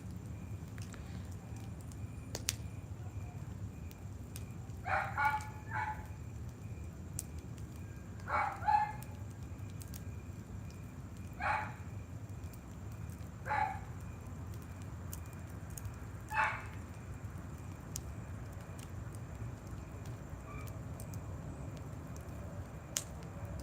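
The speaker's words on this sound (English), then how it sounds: "You guys hear the dog barking?" A dog barks in the distance, a handful of short sharp barks spaced a few seconds apart over a steady low background hum.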